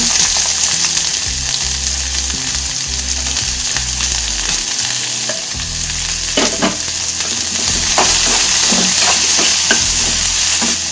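Sliced onion, curry leaves and dried red chillies frying in hot oil, a loud, dense sizzle with steady stirring and scraping of a spatula against the pan throughout, no voices.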